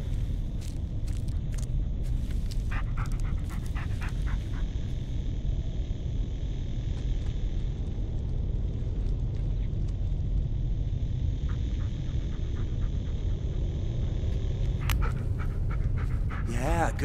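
A dog pants in the Blair Witch video game, quick rhythmic breaths heard close over a steady low rumble of background ambience, with a few brief faint clicks and knocks.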